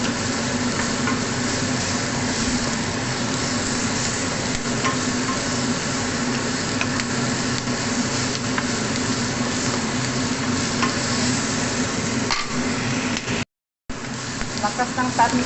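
Pork and onions stir-frying in a pan give a steady, close sizzle with scraping stirs throughout, broken by a brief silent gap near the end.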